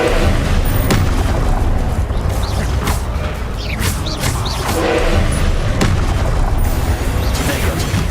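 Confringo spell explosions in a Harry Potter video game, repeated booming blasts and crackling impacts over a dense, loud rumbling battle din, with no clear talk.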